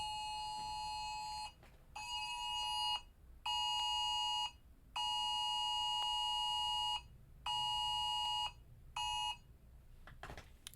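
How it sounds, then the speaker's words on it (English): A phone alarm beeps in repeated steady bursts of a bright electronic tone, each lasting about a second or more and separated by brief gaps, fairly quiet and heard alone in a still room. "one of those alarms on your phone"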